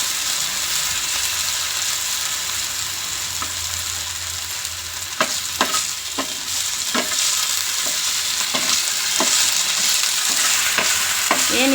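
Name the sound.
finely chopped potatoes frying in oil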